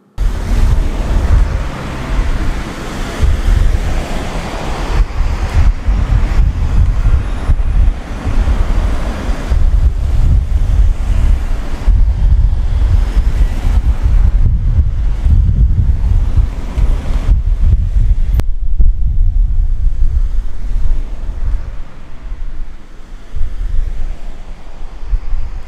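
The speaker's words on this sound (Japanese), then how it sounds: "国道134号線を、歩いているところの音声と映像をご覧いただきましょう" Outdoor walk beside coastal National Route 134 in Japan, with constant rushing wind buffeting the microphone and a broad roar like surf or passing traffic, loud and continuous before easing near the end.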